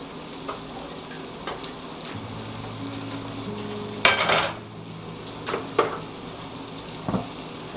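Cubed steaks browning in a hot skillet give a steady low sizzle and crackle, with a louder hissing burst midway and a few soft utensil clicks and scrapes scattered through.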